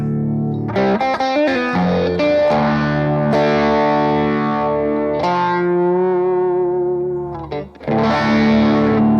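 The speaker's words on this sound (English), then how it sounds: "Okay, so there's the settings for the phaser." An electric guitar through a BOSS GT phaser effect, with a Matchless DC30 amp model, plays sustained, distorted chords and sliding notes with a swirling, sweeping phaser and a touch of reverb.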